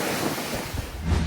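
Giant waves and strong typhoon wind batter Pio Duran Port in Albay, a loud, constant roar of surf and gusting wind with buffeting on the microphone and no pauses.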